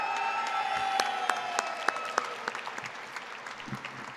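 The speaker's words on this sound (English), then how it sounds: "And let's give a special round of applause to our MC, Mike Maloney." An audience at a rally applauds an emcee, steady clapping with sharp individual claps standing out, fading toward scattered hand claps by the end.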